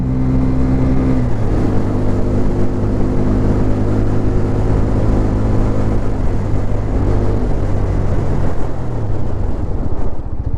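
A TVS Apache RTR 160 4V motorcycle ridden in third gear carrying a 90 kg rider, a steady loud engine drone with wind that shifts pitch slightly partway through, no talking.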